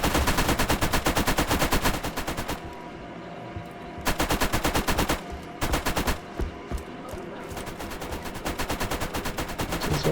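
Turrets firing in the video game Borderlands, loud rapid machine-gun bursts with brief gaps between volleys.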